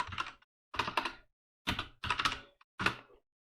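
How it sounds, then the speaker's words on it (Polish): Keys on a computer keyboard tap out a search query in five short bursts of quick, close clicking, separated by brief silences, in a quiet room with no voices. "Wpisujemy sobie w Google, na przykład pszczółka Maja."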